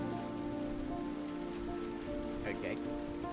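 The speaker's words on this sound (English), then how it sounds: "Let's wait out the rain in the booth." Steady rain falls in the video game Road 96, a continuous hiss of drops on surfaces with no pause, while a few brief tonal game sounds rise over it near the end.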